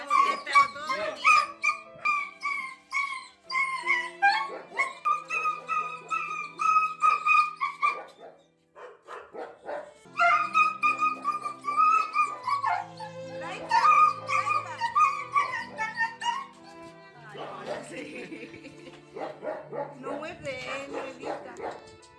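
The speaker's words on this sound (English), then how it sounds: "And you notice the dog?" A dog barks, yips and whimpers in rapid, uneven bursts, close and fairly loud, running on and off for over twenty seconds while people speak at the same time.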